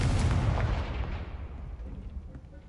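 A Confringo explosive spell goes off in Hogwarts Legacy, a loud booming blast at the start that rolls off into a fading rumble and crackle, with no talking.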